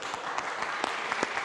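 Scattered hand claps from an audience in a TV game show studio, a steady wash of clapping with a few sharper individual claps standing out, fairly close, with no speech over it.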